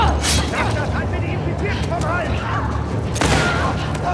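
Explosions and rapid gunfire rattle through a chaotic firefight in The Last of Us Part II, dense and loud with a heavy blast near the end, while a player shouts excitedly over the noise.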